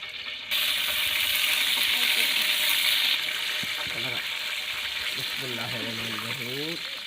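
Onions fry in hot oil in a village kitchen while niaz food is cooked. A loud, steady sizzle runs throughout and eases slightly after the start, and several voices talk over it in the background.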